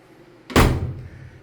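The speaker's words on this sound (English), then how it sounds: "this is a heavy duty door" A heavy-duty door on an LG washer swings shut with a single loud, solid thud that decays quickly, heard alone and up close.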